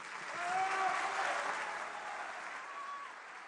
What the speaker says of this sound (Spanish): les pido por favor que lo reciban con un aplauso